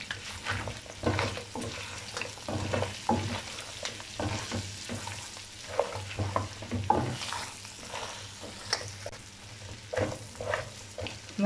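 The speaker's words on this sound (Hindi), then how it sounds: "अब इसमें गरम मसाला और काली मिर्ची डालेंगे" Mutton fries with garam masala and black pepper in a handi for Peshawari namkeen, giving a soft, steady sizzle broken by repeated scraping stirs, close by with no talk.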